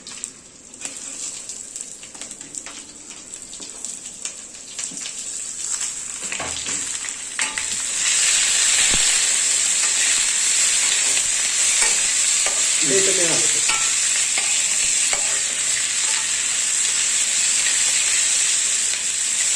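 Chopped onion drops into hot oil already holding whole coriander seeds while cooking a Sunday chicken kalvan, with stirring and clattering first, then a loud, steady sizzling hiss that swells and holds close up to the end.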